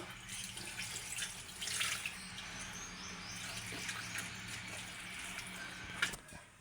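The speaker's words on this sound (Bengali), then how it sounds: "সামান্য একটু হাতটা ধুয়ে পানি দিয়ে দেবো।" Tap water runs steadily into a sink as hands are rinsed after mixing beef by hand for a spiced curry, a continuous close splashing wash with a brief louder splash near the end and no talk.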